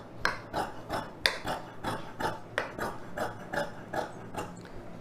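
Scissors cut through a stack of four fabric pieces for a lined chudidhar collar, a regular series of crisp snipping strokes, close and moderately loud.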